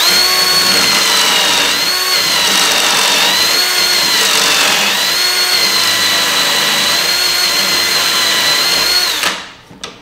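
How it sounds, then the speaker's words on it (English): Power drill boring into a gun stock held in a drilling jig: a loud, close, continuous whine with slight pitch dips under load, cutting off abruptly near the end. "Now we're going to drill the stock."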